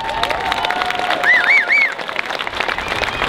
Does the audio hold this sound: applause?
yes